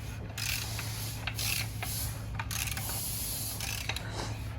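The engine of a fifth-generation Camaro is turned over by hand after a piston and connecting rod are fitted. Soft ratcheting clicks and mechanical knocks sound over a constant low hum.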